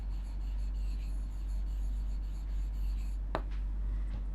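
Pen writing on paper while working a class 6 maths problem, a faint steady scratching over low background hum, followed by a few sharper strokes near the end.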